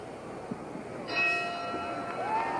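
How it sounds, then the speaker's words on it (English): A boxing ring bell clangs to open round one of a Muhammad Ali fight, one bright ringing strike that hangs and decays over a low arena crowd murmur. "The bell for round 1."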